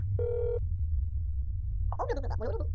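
A short electronic phone tone rings once in the video game That's Not My Neighbor, clean and steady over a low droning hum, followed by a voice speaking.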